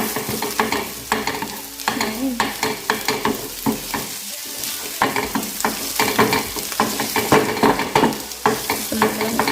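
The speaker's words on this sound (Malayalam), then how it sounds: "ഇതിൻ്റെ ഒരു 1 മിനിറ്റ് നല്ലോണം ഇങ്ങനെ ഇളക്കി കൊടുക്കാം." Ghee roast frying in a pan while being stirred, rhythmic scraping strokes of a spoon against the pan over a steady close sizzle, heard alone.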